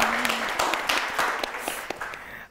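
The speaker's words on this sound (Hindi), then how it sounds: "बहुत सारी तालियां" Applause from an audience at an Indian quiz-style event with children, a dense patter of claps held for a couple of seconds and fading out at the end.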